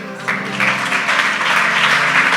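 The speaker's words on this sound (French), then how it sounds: "Acclamez-les." Church congregation applauding at a prophetic gathering, a dense loud wash of clapping that swells and holds steady throughout, with faint voices mixed in.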